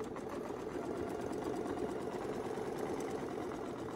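A sewing machine hums and stitches steadily up close while free-motion quilting with Westalee Fun and Fancy templates and a feathers ruler set, a continuous even whir with no pauses.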